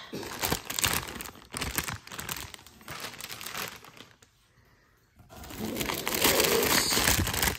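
A meal kit's plastic ingredient bag crinkles on and off at close range, with a short quiet gap before a louder, steadier stretch of crackling.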